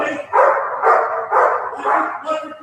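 A dog barks outdoors in a steady series of about five loud, evenly spaced barks, with talk faintly in the background.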